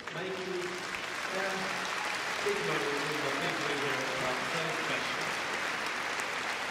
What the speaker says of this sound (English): tremendous applause there